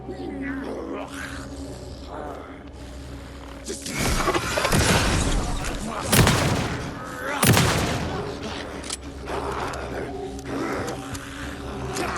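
An enemy fires at the player in Alan Wake 2, with loud gunshot bursts and mechanical clatter over tense game ambience and growling effects, peaking in the middle.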